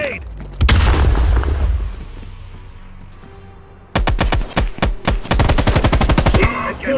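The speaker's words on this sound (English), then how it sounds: "Grenade!" In the Call of Duty: Black Ops Cold War video game, a loud grenade blast booms, and then sustained rapid bursts of automatic gunfire rattle close and heavy.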